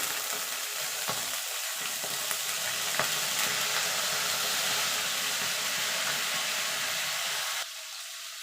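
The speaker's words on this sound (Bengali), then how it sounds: "এবার মশলাটাকে একটুখানি কষিয়ে নেবো হলুদের কাঁচা গন্ধটা যাওয়া পর্যন্ত" Ground spices and turmeric powder, loosened with a splash of water, sizzle and fry steadily in a pan for a mustard hilsa curry: a dense, close, continuous hiss with faint stirring scrapes and no talk.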